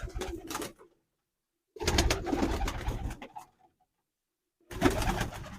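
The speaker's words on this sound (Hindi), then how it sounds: "नायाब कबूतर, नायाब नस्लें मिलेंगी आपको इधर, एक से एक" Pigeons cooing in bursts, a few loud close coos separated by stretches of silence.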